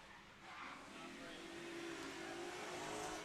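A pro drift car engine revs on track at a British Drift Championship pro qualifying round at Teesside. It is a fairly quiet car, heard as a steadily rising, moderately distant engine roar.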